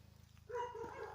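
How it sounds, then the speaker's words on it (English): A dog barking in the background at some old abandoned site with scattered bricks, a faint low rumble leading into one muffled bark or yelp at moderate distance. "sorry about the dogs barking in the background"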